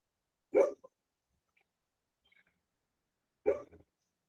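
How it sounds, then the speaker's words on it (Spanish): A neighbourhood dog barks faintly in the distance, two short single barks a few seconds apart, surrounded by near silence. "Allá el perrito del barrio ya está saludando también."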